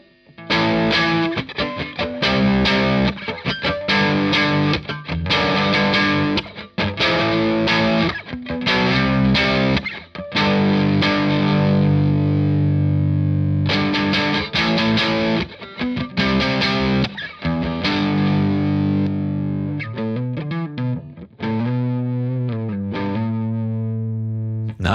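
An electric guitar played through a Safari Pedals Silver Llama amp simulator with a distortion pedal ahead of it rings out loud and saturated, strummed chords and sustained notes, then a ringing decay and softer picked phrases near the end, with no voices.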